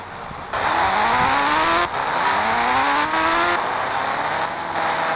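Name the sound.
motorbike engine revving in Indian Bike Driving 3D video game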